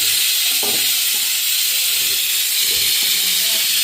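A pressure cooker on a home kitchen stove, used while cooking egg bhurji and masoor dal, lets out a steady, fairly loud steam hiss that fills the whole clip, with faint kitchen clatter underneath.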